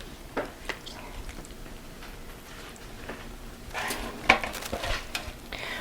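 A stuffed whole turkey being handled and set into a deep baking dish, with soft squishy contact noises, scattered clinks of the dish and utensils, and a sharper knock near the end, close and quiet.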